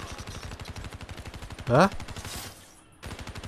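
Rapid automatic gunfire in Call of Duty: Black Ops 3, a fast even stream of close shots that stops abruptly, with a brief rising voice sound and a short pause before firing resumes.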